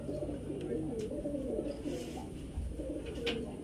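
Soft, low cooing from a high-flyer Giribaz pigeon rolls on continuously under a faint background hiss, with a couple of light taps and rustles.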